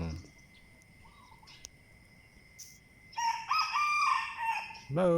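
A rooster crows loudly and close by at early morning, its long rising call filling the latter half after a quieter stretch of faint background sounds, with another call starting right at the end.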